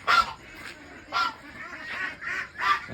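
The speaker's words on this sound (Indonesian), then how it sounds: "di sini para bebek mulai teriak sana sini dan mulai ada info kelaparan" Meat ducks calling hungrily, with loud quacks and honks in repeated bursts, close by, and little else around them.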